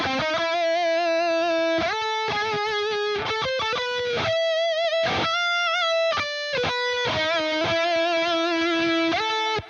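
A distorted electric guitar with an Archetype Petrucci prog metal tone plays sustained chords and short phrases, loud and upfront, with echoing delay repeats and a reverberant tail between notes.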